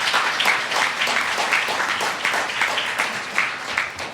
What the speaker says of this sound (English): So let us give Jordan another round of applause.